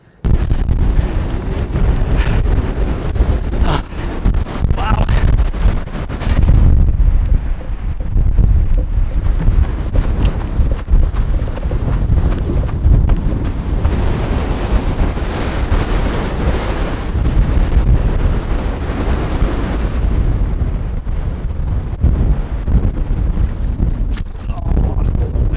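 Strong seaside wind roars into the microphone beside a truck parked by the sea, a loud continuous rumble with heavy gusts that holds for nearly half a minute.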